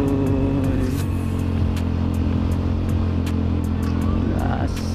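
A Honda Beat motorcycle accelerates on a fairly busy road, its engine droning loud and close with a rising pitch, while sharp intermittent ticks and clicks sound throughout.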